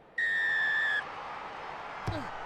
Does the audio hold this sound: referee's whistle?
yes